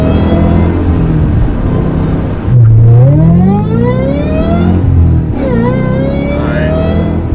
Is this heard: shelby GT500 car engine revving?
yes